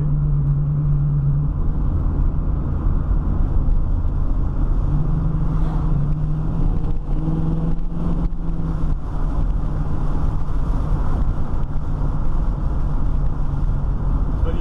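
A 1970 Ford Mustang coupe drives along at moderate speed, a steady close engine drone and road rumble buffeted by wind noise, with a brief rise in engine tone midway and no talk.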